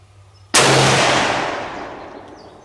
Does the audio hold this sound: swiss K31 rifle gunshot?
yes